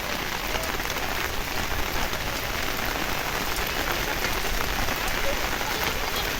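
Heavy rain pours down on an umbrella in a dense, steady patter, drumming close by without a break.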